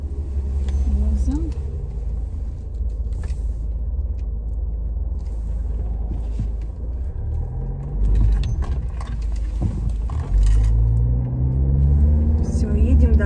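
A car drives along a road after dark, its engine and tire rumble steady and close throughout, with a few small rattles and jangles inside the cabin.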